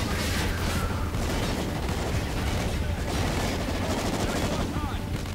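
Pistol gunfire in Call of Duty Ghosts sounds as steady, repeated shots amid constant loud game noise, with a voice talking over the action.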